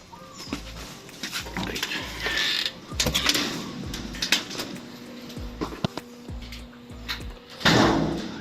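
A four-step Ingco metal folding ladder is folded and unfolded, giving repeated clunks, creaks and metallic clicks at an irregular rhythm, close by, with a voice talking briefly in between.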